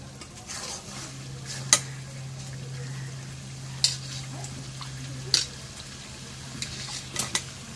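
Potatoes going into a pot of braised meat on a home stove, with soft sizzling under a steady hum and a few sharp clinks of a spoon against the pot, spaced a couple of seconds apart.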